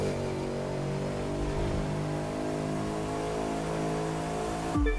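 A Bugatti Veyron Deep Blue Edition in The Crew 2 holds a steady, loud engine drone through a power slide. Near the end its pitch drops sharply as the revs fall.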